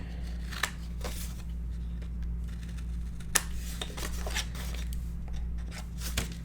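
Scissors trimming the corners of paper for an 8x8 Stamperia horses mini album, giving a few short, crisp snips spaced across the clip over a steady low hum, with no talking.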